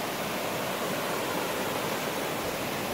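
Waterfall and clear creek water pouring at Fossil Creek, Arizona, a dense, steady rushing roar heard close up with no pauses and no voices.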